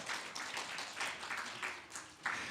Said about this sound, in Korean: 이럴 땐 박수 한번 치는 겁니다